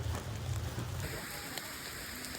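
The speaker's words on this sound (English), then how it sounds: "the rain is really coming down now" Heavy, cold rain falls outdoors under trees during a thunderstorm on an island, a dense continuous patter with a few louder drops close by and a low rumble fading early.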